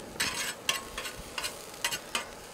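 Garlic-topped bread for a brie and red pepper jelly grilled cheese cooking in a pan, a soft sizzle broken by several sharp scraping or clinking bursts from a utensil, close and moderately loud; no voices.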